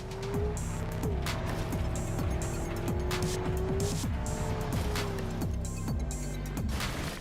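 Car in Cyberpunk 2077 driven hard, its engine loud and revving in repeated rises and falls as it shifts, running continuously throughout with no voices.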